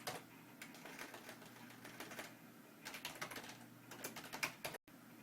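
Computer keyboard keys typed in quick irregular bursts, crisp close clicks with short pauses between runs, while a playlist name is entered.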